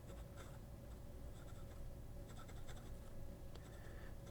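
A fine steel nib on a Hongdian A7 fountain pen writes on paper, with a soft, steady scratch and short bursts of stroke noise. It is close and quiet, with no talking.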